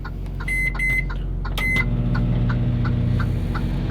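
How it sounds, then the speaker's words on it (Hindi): A microwave oven in a truck cab heats roti: a few sharp electronic beeps from the keypad, then a steady low hum as it starts running, close by. "माइक्रोवेव जो होता है ना बहुत लाइट खींचता है।"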